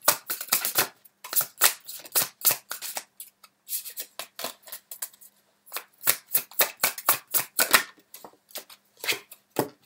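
Tarot cards being shuffled and drawn, a quick series of crisp riffling bursts in uneven clusters with short pauses between, close and clear with no talk.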